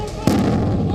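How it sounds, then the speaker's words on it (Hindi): An RPG grenade is fired during a street clash in Baghdad's Green Zone, a single sharp, loud blast followed by a rumbling tail that lingers over background commotion. "सद्र समर्थक ने टारगेट सेट किया और ग्रेनेड दाग दिया"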